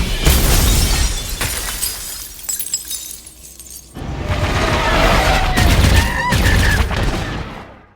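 Glass panel shattering in a Rogue One film battle scene, with a dense crash of breaking glass followed by lingering chiming shards, set against loud, continuous battle noise.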